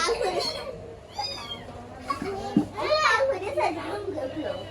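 A cat meows a few times close by while children talk and play around it.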